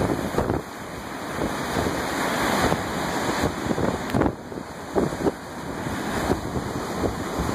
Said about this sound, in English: Looks like we got a good set coming in of waves.